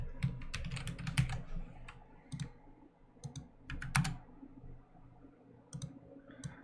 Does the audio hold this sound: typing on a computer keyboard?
yes